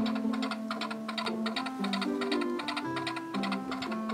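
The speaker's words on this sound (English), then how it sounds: "It says, try me, press ear for galloping sound." A Toy Story Woody's Roundup Bullseye horse toy from the 2018 Signature Collection plays its galloping effect: a steady rhythm of clip-clop taps over a bright, bouncy electronic tune, loud and close without pauses.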